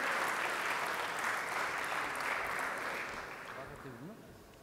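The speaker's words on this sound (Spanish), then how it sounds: "Les pido un fuerte aplauso para despedir a los galardonados del segundo bloque." Award-ceremony applause sends off the winners, dense and moderately loud at first, then slowly thinning. A voice begins speaking near the end.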